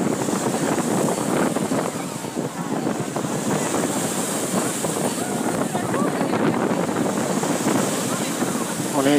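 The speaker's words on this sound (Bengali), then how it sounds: "অনেক বড় বড় ঢেউ" Rough sea at Patenga beach with big waves crashing and surging in a continuous loud roar, mixed with heavy wind buffeting the microphone.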